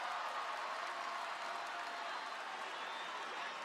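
A capacity crowd at a televised wrestling show roars and cheers in a dense, continuous wash of noise, distant and filling the arena.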